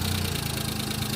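A Suzuki Alto kei car with a blow-off valve idles close by, a loud, steady, even engine hum with a rapid regular pulse and no voices.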